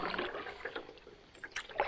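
Canoe paddle strokes dip into lake water close by, bringing soft splashes and gurgles in an uneven rhythm with no talking.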